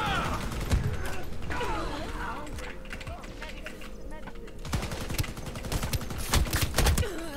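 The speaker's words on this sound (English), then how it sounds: "Reloading, cover me." Weapon reloading in the first-person shooter Shatterline, a run of quick mechanical clicks and clacks mixed with scattered gunfire and game effects, with a player talking over it.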